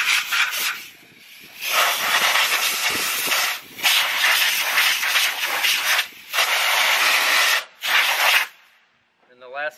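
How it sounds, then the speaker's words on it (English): Compressed air blasts out dust while a machine is cleaned, coming as several loud hissing bursts of a few seconds each with short pauses between them. "take some compressed air and clean out just to make sure they're"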